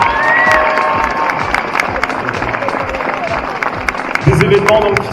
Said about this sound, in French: Je pense qu'on peut vraiment les applaudir.